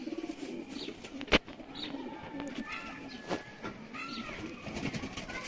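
Dub-type pigeons at a Lahore loft coo in low, rolling, repeated calls, with one sharp click early on and a few faint higher sounds in the background.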